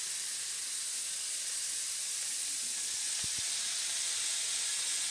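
Chopped onions sizzling in a pan make a constant, even frying hiss that stays level from start to finish, broken only by two tiny clicks midway.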